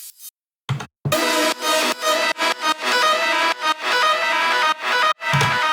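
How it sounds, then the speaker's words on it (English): A long synth tail sample processed with effects for a hardwave track plays in loud bright bursts, chopped by abrupt gaps and stutters into a choppy sequence with no talk. "just a kind of tail of a synth"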